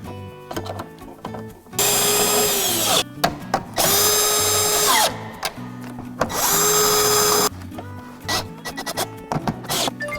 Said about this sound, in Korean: 이제 이쪽 부분에 있었던 너트를 다시 체결해 주겠습니다.